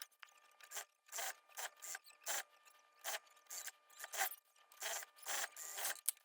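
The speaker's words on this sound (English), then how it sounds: "now we're going to sew around the waistband" A sewing machine stitches around the knit waistband of a girl's ruffle set, quiet short whirring runs stopping and starting in a steady rhythm.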